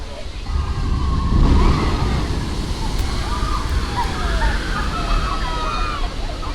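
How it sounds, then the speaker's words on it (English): Theme park water ride boat at Universal Studios splashing down, heard as a broad, steady rush of water and spray that swells early, then holds as continuous churning, with distant crowd voices and some talk underneath. "Let's see how they come splashing down."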